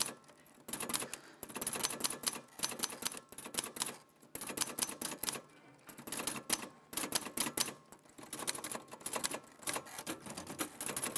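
A typewriter clatters through a long run of rapid, uneven keystrokes, loud and close, with short pauses between bursts as it types out an image of an eye.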